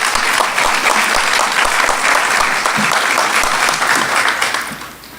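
An audience at a college convocation applauds loudly and steadily, a dense wash of many hands clapping that holds for several seconds before tapering off near the end.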